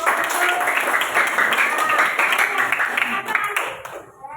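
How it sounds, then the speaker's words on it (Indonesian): Hand clapping from a class of students during an Indonesian school coaching session, a close, brisk burst of many hands with voices mixed in that thins out and stops near the end. "Tepuk tangan."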